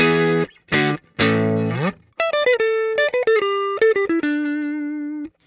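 A clean electric guitar, a Jackson Newcastle, strums a few chords, then picks short single notes and held tones, played alone and close up.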